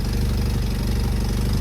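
A Lancia Beta engine left abandoned for 20 years runs steadily again, smoky and with an exhaust leak, a loud close idle with a rapid, even low-pitched pulsing that continues throughout.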